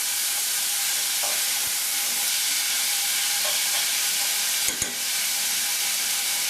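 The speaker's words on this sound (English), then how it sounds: "Tomatoes. Even sizzling quite nicely." Steady bright sizzling hiss of tomatoes frying in a pan over medium heat, continuous and close, with a couple of faint clinks partway through.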